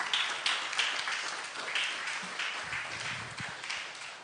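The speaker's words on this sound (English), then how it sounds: "Give them a round of applause" An audience applauds in a hall, a steady wash of many hands clapping that holds at a moderate level for several seconds without fading.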